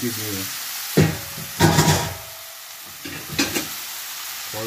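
Kidney dropped into hot oil for Jamaican curry kidney, with bursts of loud sizzling and spattering between quieter frying and stirring, and someone talking at the start and in the gaps.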